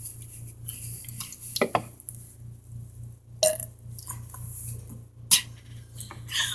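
A few short burps from a young person in a burping challenge, interspersed with light clinks and small handling noises in a quiet indoor space.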